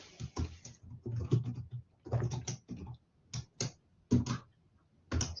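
Computer keyboard typing while entering a Python data-analysis command: quick bursts of close, clicky keystrokes in uneven clusters with short pauses between, no voices.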